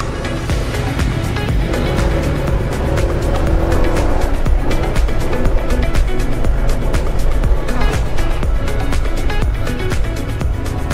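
A motorcycle ridden through a residential subdivision, a loud, continuous engine rumble heard up close from the rider's position, with wind and road noise over it.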